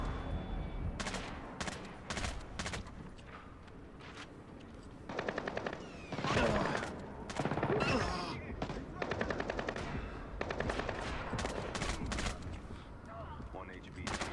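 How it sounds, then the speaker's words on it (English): Video game gunfire from Splinter Cell Blacklist during a co-op missile control mission: repeated bursts of automatic fire, some close and loud, with heavier volleys in the middle and continuous combat noise underneath. "Excuse the shooting here."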